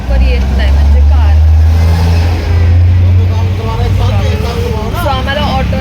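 An auto rickshaw engine droning loud and steady through a ride, with a strong low hum under a person talking throughout.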